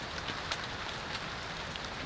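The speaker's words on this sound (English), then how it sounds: "starting to rain again" Rain pattering on a heated camping tent in heavy weather, a soft steady hiss of drops with occasional louder taps, faint and continuous with no voices.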